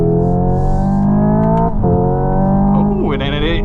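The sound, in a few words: Hyundai IONIQ 5 N electric car driving off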